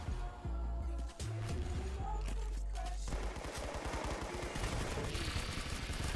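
A shotgun fires in a Roblox game, several quick gunshot blasts mixed with rapid bursts of gunfire and game effects, steady and fairly loud.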